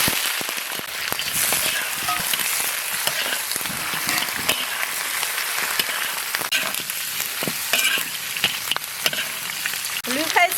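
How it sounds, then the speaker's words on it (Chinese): Donkey ribs hit hot oil and caramelized sugar in a wok, giving a loud, dense sizzle and crackle that runs the whole time, with scraping stir noises cutting through. No one speaks. "倒入驴排"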